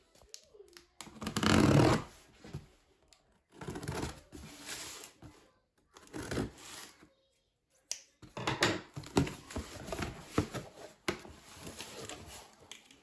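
A mailed package of herb plant folders being opened, with bursts of crinkling, tearing and rustling packaging separated by short pauses, close and fairly loud.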